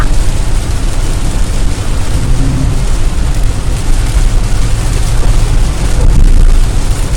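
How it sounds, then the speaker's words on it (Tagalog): Loud, dense summer rain pours down in Germany in a constant broadband roar, with a low rumble underneath and no voices. "Lakas ng ulan."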